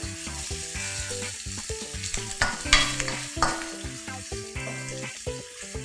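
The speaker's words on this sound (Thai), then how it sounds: "แบบเดียวน้ำมันจากเบคอนก็ออกมาแล้วค่ะ" Bacon stir-fries in its own rendered fat, a busy close sizzle broken by rhythmic stirring scrapes, with tonal music playing underneath.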